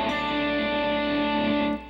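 Electric guitar with several fretted notes on the third string ringing into one another as a sustained, blended chord, played alone for about two seconds before fading.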